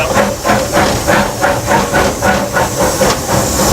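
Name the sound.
steam locomotive hissing steam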